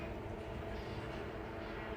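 A passenger train rolls through Shu station in Kazakhstan, giving a steady, broadband rumble of wheels and carriage noise at close range, continuous throughout with no voices.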